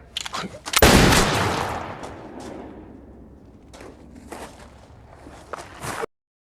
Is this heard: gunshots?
yes